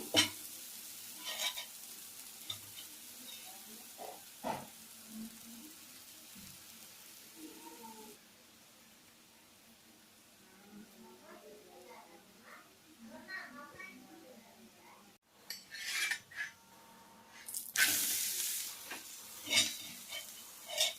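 Oil sizzles softly as a spicy jowar roti cooks on a hot pan, with faint stirring and handling noises and someone talking over parts of it.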